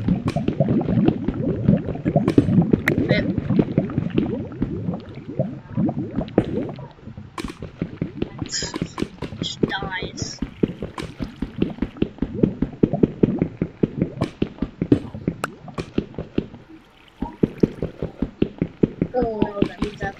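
Bubbling, gurgling lava and water flowing in Minecraft, a continuous crackling churn with dense rapid pops, under a player's frequent talk.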